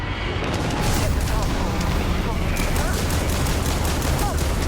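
Sustained heavy gunfire in a Starfield firefight, dense overlapping bursts and booms running continuously at high volume with shouted voices underneath.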